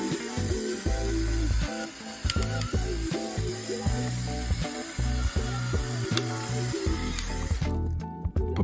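A pepper mill grinds black pepper over tilapia fillets on a baking sheet, giving a steady ratcheting crunch under background music that stops abruptly at the end.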